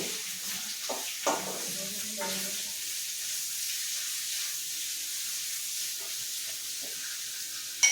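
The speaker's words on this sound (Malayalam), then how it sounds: "സവോള ഇട്ടതിന് ശേഷം നന്നായിട്ടൊന്നത് ഇളക്കി യോജിപ്പിച്ച് കൊടുക്കാം" Onions sauté in a pan with a steady hiss of frying, a few scraping stirs early on, then continuous even sizzling, close and without talking.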